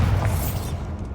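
A Bombarda explosion spell in Hogwarts Legacy goes off as a brief booming blast with heavy low rumble and a whooshing tail that dies away within a second.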